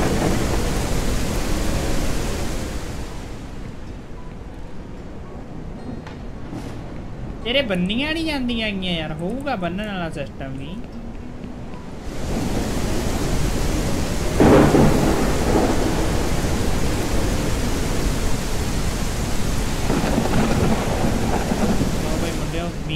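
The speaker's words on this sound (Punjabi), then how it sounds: "ਮੀਂਹ ਪੈਣ ਲੱਗ ਗਿਆ" Rain and rolling thunder from the Ranch Simulator video game keep up a steady wash of downpour, with a deep thunder rumble swelling midway, while people talk over it throughout.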